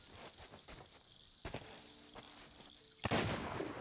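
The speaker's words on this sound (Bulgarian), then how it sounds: "Стрелвам се да се ориентираш по звука къде съм." Gunshots ring out in Sea of Thieves, a few separate sharp cracks with gaps between them, ending in a louder, closer burst. A faint rustle of movement sits underneath.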